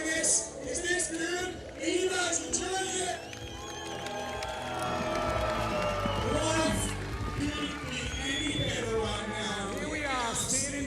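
A crowd cheers and shouts at a BMX freestyle park World Cup semi-final in Croatia, a loud, dense roar with whoops and yells that swells midway, with voices mixed through it.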